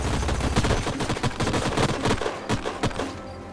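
Rapid, dense gunfire from the strategy video game Age of Wonders Planetfall, a continuous rattle of sharp shots and impacts filling the whole stretch with no talk over it.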